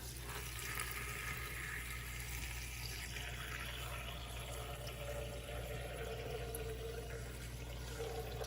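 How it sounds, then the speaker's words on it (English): Alkaline water pours onto sea moss in a steady, even wash of liquid sound, fairly quiet and unbroken for several seconds, with no talking. "now I'm going to add some alkaline water to it"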